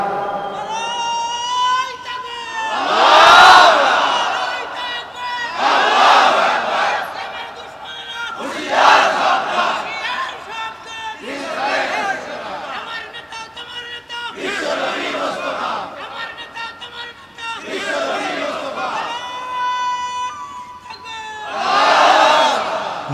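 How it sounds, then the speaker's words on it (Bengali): A large crowd at a Bangla sermon shouts takbir in repeated loud collective bursts, roughly every few seconds, with a lead voice calling between each massed response. "শ্যামনগরের জনগণ আপনারা একজনে তাকবীর দেন তাড়াতাড়ি"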